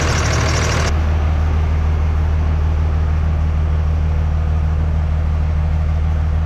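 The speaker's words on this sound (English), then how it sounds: "I heard that AC kick in" A car's air conditioning kicks in as a loud, steady mechanical hum and whoosh that abruptly shifts at the start, then holds as a constant low drone with no talking.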